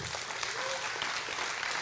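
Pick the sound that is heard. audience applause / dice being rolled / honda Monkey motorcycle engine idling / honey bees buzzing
audience applause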